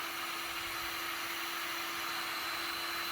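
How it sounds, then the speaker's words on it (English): A heat gun on a medium-high setting blows hot air over a leather car seat, giving a steady, close hiss of airflow with a faint motor whine and no break. "this heat gun on its sort of medium-high setting"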